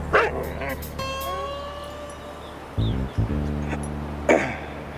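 A dog gives a few sharp barks and yips, with a whimper, close and loud, mixed among voices talking and a burst of music in a TV scene.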